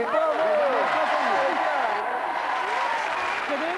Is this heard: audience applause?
yes